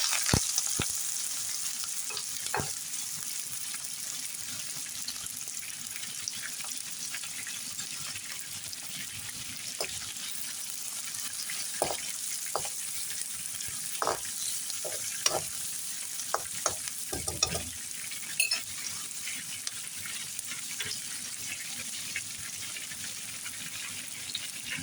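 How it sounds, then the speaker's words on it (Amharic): Onions frying in a pan while preparing biryani, a continuous close sizzle with frequent stirring scrapes and clicks, and some brief water splashes, with no talk. "አሁን ሽንኩርቱን በጠበስኩበት ሽንኩርቱን አደርጋለሁ።"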